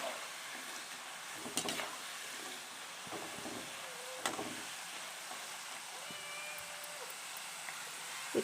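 Jackfruit chips roasting in a pan, a soft steady sizzle with scraping stirring strokes and occasional clinks of a utensil, fairly quiet and continuous.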